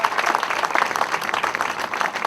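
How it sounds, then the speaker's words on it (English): An audience at a Blues Foundation marker ceremony applauds musicians, dense loud clapping sustained throughout with a crowd murmur mixed in. "we should give a big, warm, rousing cheer for those great musicians"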